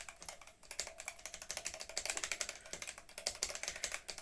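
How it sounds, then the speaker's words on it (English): Rapid, fairly soft keystrokes on an 8BitDo retro mechanical keyboard with spring-over-membrane switches, a steady run of muted tactile taps with little click, close up and alone. "Now this uses spring over membrane switches, so these aren't as clicky, but they're still pretty tactile to feel."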